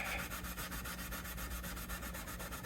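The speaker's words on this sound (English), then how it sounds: "So first, we're going to clean this. Let's give this a light scrubbing." Close, quiet rhythmic rubbing as the frets of a vintage Martin Tripole T-17 guitar neck are lightly scrubbed clean, with quick even back-and-forth strokes throughout.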